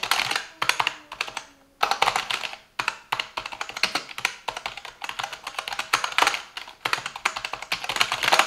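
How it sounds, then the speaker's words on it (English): Rapid gaming keyboard typing, a busy stream of clicky keystrokes with brief pauses between bursts, close and fairly quiet. "Keyboard strokes generate minimal noise for quiet performance while gaming."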